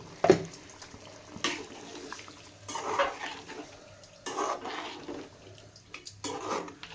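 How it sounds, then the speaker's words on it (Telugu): Water splashes into a rinsed mixer jar in a home kitchen amid clinks of steel dishes and utensils, short irregular bursts of pouring and rattling at close range, with no voices. "అదే జారు కడిగి ఒక 1/2 గ్లాస్ వాటర్ వేసుకున్నానండి."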